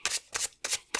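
Oracle cards are shuffled in four quick, crisp riffling bursts, close and fairly quiet, with no talking.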